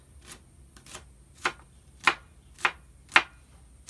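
Knife slicing an onion on a cutting board, six crisp separate chops in an even rhythm about half a second apart, close and clear against a quiet background with no voice.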